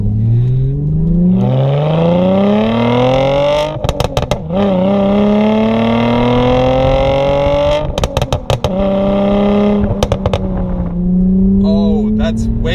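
Tuned manual Mercedes C300 with an aftermarket pop-and-crackle exhaust revving up through the gears, engine note climbing loud and close with brief drops at each shift, crackles between pulls.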